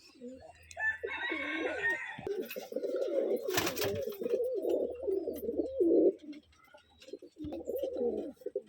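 Big Giribaz flying pigeons and other fowl call steadily at close range, with cooing and a rooster-like crow running through most of the stretch and a brief gap near the end.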